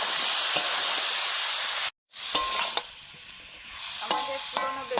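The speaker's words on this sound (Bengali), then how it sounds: "এবারে শসাগুলো দিয়ে দিচ্ছি।" Cucumber pieces tipped into a hot pan, sizzling and frying steadily with a brief pause, then a spatula scraping and stirring in clattering strokes through the hiss.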